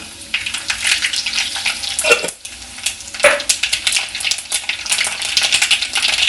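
Mustard and fenugreek seeds splutter in hot oil, a dense close crackling sizzle that runs steadily with a brief dip partway through.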